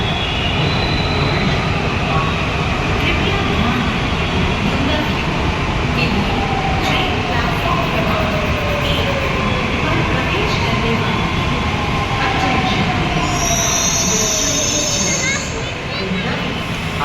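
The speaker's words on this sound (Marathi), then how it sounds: "आणि मेट्रो आली आहे." A metro train arrives and runs past at close range, with a loud continuous rumble and wheel squeal carrying through the whole stretch and a high screech near the end.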